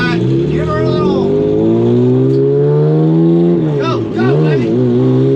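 Car engine revving hard in a test run before the PFI SpeedFest, climbing and falling in pitch as it accelerates, loud and close with a dip near the end, while a man cheers over it.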